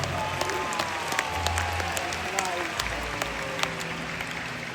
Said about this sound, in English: Give yourselves and the whales another round of applause